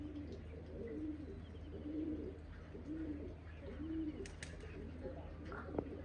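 Pigeons coo in a low, repeated rhythmic pattern, soft and fairly close, each coo rising and falling at regular intervals against a faint background hum.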